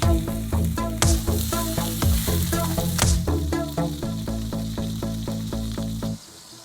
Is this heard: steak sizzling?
yes